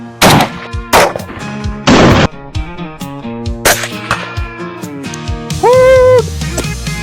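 A Smith & Wesson M&P 2.0 10mm pistol fires about five loud, sharp, close shots at uneven intervals, with brief ringing and clattering in the gaps.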